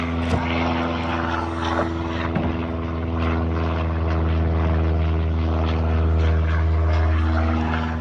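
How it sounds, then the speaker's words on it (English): Airplanes take off from a nearby airport: a continuous, steady engine drone with a rumbling low hum stays fairly loud and even throughout, with faint scattered background noise. "We got an airport behind us and they're taking off like crazy today."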